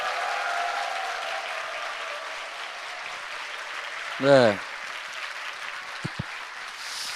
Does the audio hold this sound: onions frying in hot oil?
no